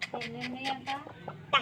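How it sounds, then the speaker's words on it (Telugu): A hen clucks in a rapid series of short, close, regular bursts, about one every fifth of a second, with a louder final cluck. "ఇదిగో పెట్ట"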